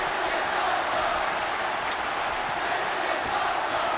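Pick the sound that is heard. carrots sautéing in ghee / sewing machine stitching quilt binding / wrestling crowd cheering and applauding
wrestling crowd cheering and applauding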